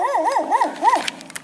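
A dog on a road gives a close, loud run of warbling, whining yelps that rise and fall in pitch several times, followed by a few faint knocks and rustles.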